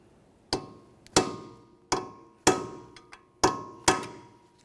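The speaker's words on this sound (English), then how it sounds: "We'll use a hammer and punch and drive the nut into that area" Six sharp metallic hammer strikes on a punch, staking an axle nut on a 1994-1997 Honda Accord front CV axle, evenly spaced and ringing briefly, close and loud with no talking.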